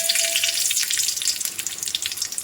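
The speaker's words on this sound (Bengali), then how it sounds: "আমি সর্ষে আর শুকনো লঙ্কা ফোড়ন দিলাম" Mustard seeds and dried red chillies spluttering in a small amount of hot mustard oil, a dense bright crackle of rapid pops filling the whole stretch, close and fairly loud.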